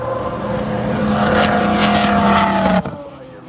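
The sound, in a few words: Mazda 767B race car passing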